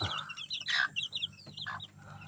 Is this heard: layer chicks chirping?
yes